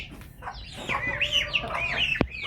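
Chickens on a small backyard farm cluck and chatter nearby in a quick, irregular series of calls, with one sharp knock near the end and no talking.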